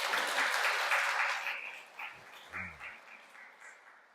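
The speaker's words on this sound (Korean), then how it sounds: "박수 한번 쳐줘요." Church congregation applause during a weekday Mass homily, a moderate burst of clapping that fades after a second or two, followed by a few scattered low thumps and small noises in a quiet room.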